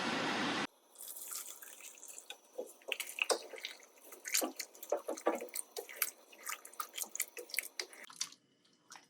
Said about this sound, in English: So I'm gonna go ahead and put some more water in.